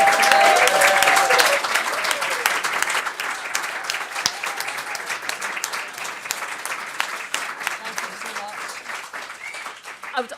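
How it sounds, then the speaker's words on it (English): Applause from a conference fringe-event audience thanking a panel, a dense sustained clapping that fills the room, loudest at the start and gradually thinning toward the end, with a voice heard over it early on. "can I first of all have a huge round of applause from Susan, Sarah and Dee for taking the tim"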